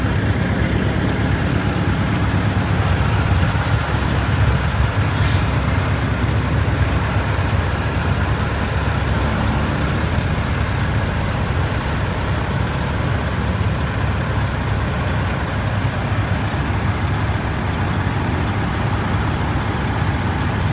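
A broken-down Eagle bus with no power, apparently from a plugged fuel filter, runs with a steady, heavy low engine rumble and a constant idle-like drone throughout, no voices over it.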